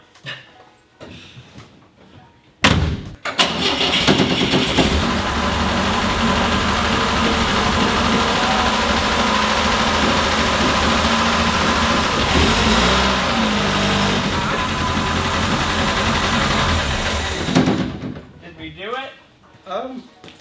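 A car engine, started for the first time in 30 years, roars to life and revs hard and continuously for about fifteen seconds during a burnout before cutting off, with brief voices near the end.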